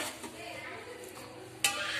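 Cooked vallarai keerai rice being stirred in a pressure cooker, soft low scraping and rustling of the spoon through the rice, with a sharper metallic scrape near the end.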